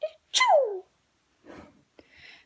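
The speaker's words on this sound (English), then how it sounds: "Presently, Peter sneezed." A sneeze performed aloud while a Peter Rabbit story is read, a single sharp burst with a falling wail-like tail, followed by a softer breathy sound and faint rustle, close and clear.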